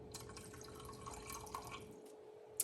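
Quarter cup of water going into Dr Pepper barbecue sauce for glazed ribs, a faint, steady trickle with a few soft drips, quiet and close, with no talking.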